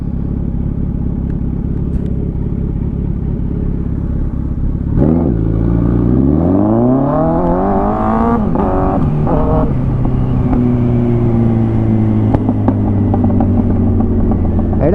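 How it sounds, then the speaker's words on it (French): A car pulls away and accelerates, the engine rising in pitch then dropping with each upshift through first to fourth gear while being driven without the clutch, up close and loud. "là je viens de faire une poussée, j'ai fait première, deuxième, troisième, quatrième"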